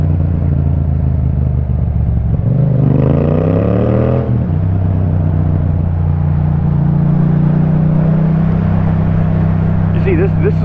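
A £500,000 Ferrari supercar revs on a London street, a rising engine surge of about two seconds that cuts off sharply, heard over a steady nearby engine drone.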